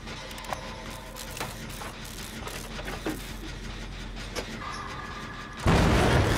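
A generator is being repaired in the Dead by Daylight video game: steady mechanical ratcheting and clanking gear noises tick along with occasional knocks, then a sudden loud burst of noise takes over at the end.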